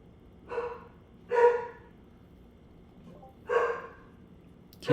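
Dogs bark in a few separate bursts spaced a second or two apart, medium distance, over a low steady hum, with no talk.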